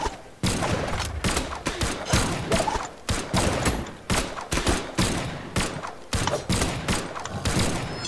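Pistols firing in Brawlhalla, loud sharp shots in quick clusters with brief gaps between bursts, mixed with thumps and clatter from the fight.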